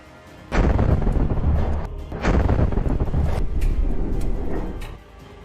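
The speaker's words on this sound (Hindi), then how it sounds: "जैसे ही ये टैंक बारूद वाली जगह पर आते हैं वैसे ही वहां पर एक जोरदार ब्लास्ट होता है" Buried explosives detonating under Merkava tanks in the Israel–Hezbollah war: two heavy, booming blasts close together, each followed by a loud rolling rumble that fades out.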